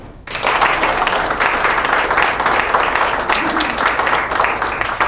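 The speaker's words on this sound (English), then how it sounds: "Now, what I'd like you to do is clap your hands." A standing audience claps together after being asked to, a loud, dense burst of hands that starts abruptly and keeps going steadily, with no talk over it.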